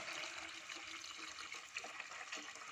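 Water pours into a cooking pot for udong noodles with sardines, a faint, steady trickling rush heard alone at a quiet level.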